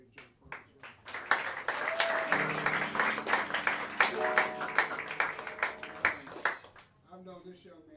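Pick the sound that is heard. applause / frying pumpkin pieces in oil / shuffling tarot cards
applause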